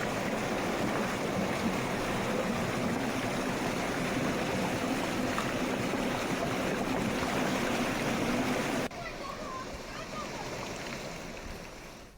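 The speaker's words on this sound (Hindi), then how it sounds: "पिथौरागढ़ के मुनस्यारी में मिलम रोड पर रगाड़ी पुल के पास अचानक से पानी बढ़ गया है" Swollen river water rushes near the Ragadi bridge on Milam Road in Munsiyari, Pithoragarh, a loud, continuous broadband roar that drops to a lower, steady level after about nine seconds.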